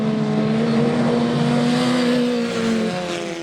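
Historic Formula Ford race cars at Donington Park in 2018, engines roaring in a loud, sustained high-revving drone as they race close by, with a steady pitch that eases slightly toward the end.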